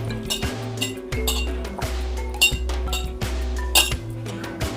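A spoon clinks repeatedly against a bowl in quick, irregular strikes while stiff bajji batter with salt, baking soda and water is mixed, close up, with a low steady hum underneath.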